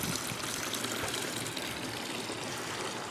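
A fish pond pump in a garden running water: a continuous, even splashing and gushing flow, fairly close and steady throughout with no pauses.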